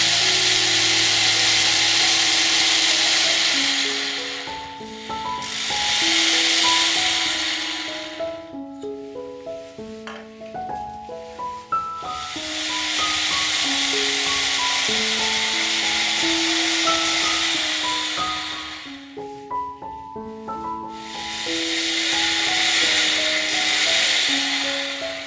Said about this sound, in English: I pre-drill holes for the screws.